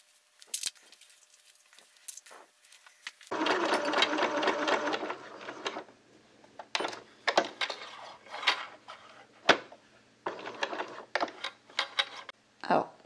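A sewing machine runs in a sustained whirring burst of stitching, then gives several short stops and starts as it backstitches, with someone speaking between the runs.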